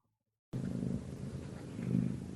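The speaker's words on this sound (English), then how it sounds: "I hear a cat" Steady, rumbling cat purr close up, starting abruptly after a moment of silence and continuing evenly.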